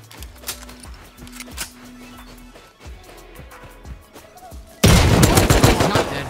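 Gunshots in a shooter video game: a few scattered sharp shots over quieter game sound, then a sudden loud burst of rapid automatic fire in the last second and a half.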